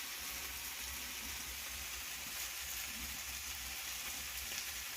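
Potatoes go into a pan of sizzling oil for a Bengali snail curry, giving a soft, even frying hiss that stays fairly faint and steady throughout with no talking.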